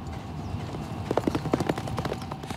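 Racehorses' hooves clip-clop on a training track in Dubai, a rapid, rhythmic run of hoofbeats that rises in the second half, fairly close, with a faint background murmur.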